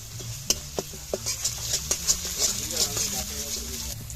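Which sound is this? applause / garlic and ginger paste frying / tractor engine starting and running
garlic and ginger paste frying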